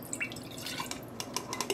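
Liquid dye splashes and drips into 32-ounce mason jars of water holding yarn, a steady trickle with small drops and splashes, fairly quiet and close, with no talking.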